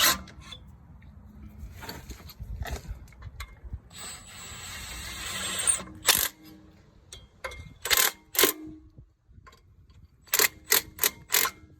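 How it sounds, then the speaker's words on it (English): A rear brake rotor on a Toyota Prado 150 works loose from the hub with a series of sharp metallic twangs and scraping clanks, some in quick bursts, close up and without talk. "You hear that twang? Well, that twang is indicating that the rotor is coming out"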